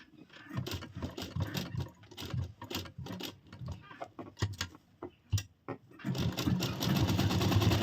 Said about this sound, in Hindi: पलटने से पहले एक और हम सिलाई लगा देंगे